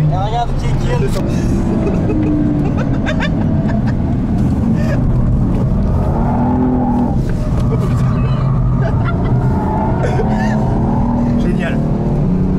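A car accelerates and revs hard, a loud continuous engine roar with rising and falling pitch sweeps heard from inside, while an excited passenger talks over it throughout.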